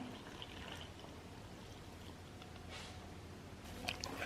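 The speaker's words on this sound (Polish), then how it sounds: "Wlewamy tą wodę z drożdżami." Yeast water is poured into a bowl of dry bread ingredients, a soft continuous trickle and splash nearby, ending with a few light squishy sounds.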